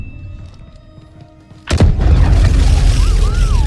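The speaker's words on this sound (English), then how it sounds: "Hearing explosions and Cal's lightsaber ripping through the metal has such a satisfyingly punchy bass that I feel in my chest" A sudden heavy boom from an explosion in the video game Star Wars Jedi: Survivor, loud and deep, following a quieter stretch and trailing into a sustained roaring rumble with a brief warbling tone.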